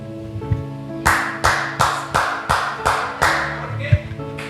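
A man claps his big hands hard during a church sermon, giving six sharp, loud, evenly spaced claps in a steady rhythm, close to the listener, with faint background tones and a small knock near the end.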